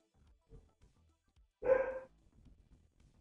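A single short dog bark sounds close by, standing out from faint breathing-like noises and near quiet on either side.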